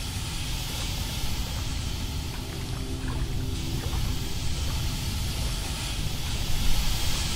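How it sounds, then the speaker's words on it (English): Steady broadband wind rushing without letup for several seconds, a continuous hiss with low rumble, rising slightly near the end; no voices. "There's a wind."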